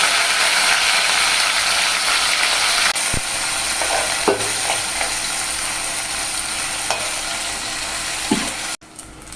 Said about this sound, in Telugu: కడిగి శుభ్రంగా పెట్టుకున్న ఎండ్రాయిలు వేయించుకుందాం